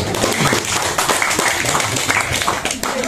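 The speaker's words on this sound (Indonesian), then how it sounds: "Tepuk tangan buat Mbak Maria." An audience at a community gathering claps for a woman named Maria, a dense burst of scattered hand claps lasting a few seconds, with some voices mixed in.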